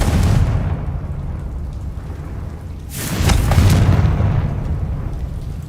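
A Confringo spell explosion in Hogwarts Legacy: a single deep, booming blast bursts out midway over a constant low rumble of game ambience, then fades back into the background.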